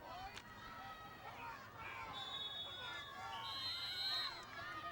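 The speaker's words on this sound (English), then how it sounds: "The crowd gets fired up." High school football crowd at Golden Valley, a broad roar of cheering and babble in the stands, with whistles and shouts over a steady crowd wash.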